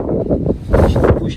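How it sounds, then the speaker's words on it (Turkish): Gusty wind blowing straight into the microphone outdoors beside dog kennels, a broad, steady rumble and buffeting that swells in the second half, close and fairly loud with no talk. "rüzgar şu an tamam böyle geliyor, benim yüzüme vuruyor"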